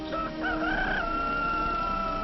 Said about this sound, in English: A rooster crows.